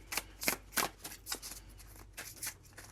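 A deck of tarot cards is shuffled by hand in a quick series of crisp, papery riffles and snaps, about a dozen short bursts at close range with nobody speaking.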